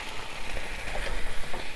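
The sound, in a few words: pasta sauce sizzling in a pan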